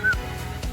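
Ducks give a couple of short honking calls, brief and fairly close, over a steady wash of heavy monsoon rain in rural Konkan.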